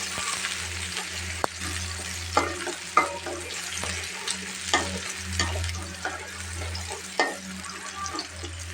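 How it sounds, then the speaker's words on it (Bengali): Chopped onion frying in oil in a wok, a close sizzle with intermittent stirring scrapes and a low steady hum from the stove underneath. "কড়াইতে এখন আমি পেঁয়াজ কুচি দিয়েছি"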